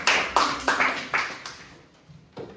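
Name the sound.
class clapping hands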